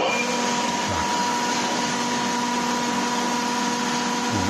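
A 16V20 metal lathe runs steadily in a cold workshop, giving a constant loud motor hum and whir with a few low thumps and no talk.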